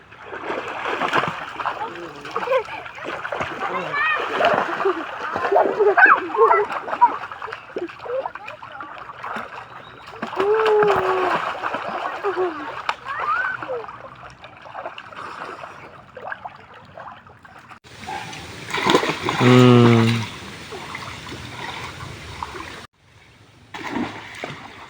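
People jumping into a river make bursts of splashing over flowing water, with a heavy plunge near the end, while voices chatter throughout.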